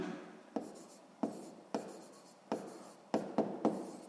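Pen writing by hand in a notebook, close and quiet, with repeated scratchy strokes and several sharp taps as the pen meets the page between lines.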